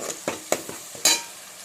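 Mustard seeds and cumin frying in oil in a pan, with a steady faint sizzle broken by a few short crackles and pops as the seeds split, one louder burst near the end.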